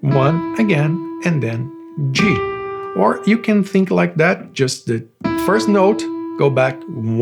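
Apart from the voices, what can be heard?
No everyday noises stand out.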